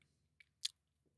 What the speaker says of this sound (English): now these aren't crunchy, so I can eat these on the camera